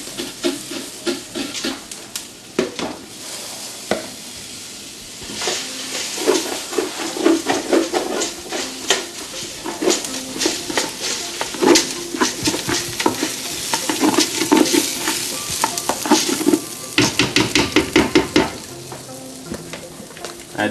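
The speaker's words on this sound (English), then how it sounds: "But I'm gonna go ahead, add the rice in." Rice is tipped into a hot pot for a one-pot baked paprika chicken and stirred, giving a loud sizzle and fry with repeated scraping and scooping strokes that grow busier toward the end.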